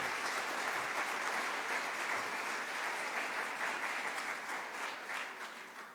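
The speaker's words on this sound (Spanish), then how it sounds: "lo recibimos con un aplauso" Audience applause welcoming a speaker at a Catholic symposium on Saint Joseph, sustained, even clapping from a crowd that fades slightly toward the end.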